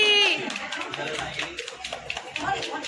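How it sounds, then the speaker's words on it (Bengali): Party guests at a friend's baby shower clap their hands in scattered, light taps under loud, overlapping chatter and laughter, the clapping never standing out clearly from the talk. "হাততালি হাততালি একটু হাততালি"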